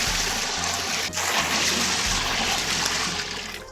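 A steady stream of water, 20 litres, pours into a large cooking pot ahead of boiling rice for a 5 kg degi mutanjan; a continuous loud rushing splash with no talk.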